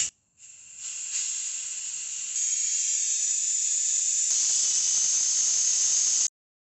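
A pneumatic brake bleeder tool, drawing brake fluid on a 2015 Nissan Quest, gives a steady close hiss that climbs a little in level and then stops abruptly.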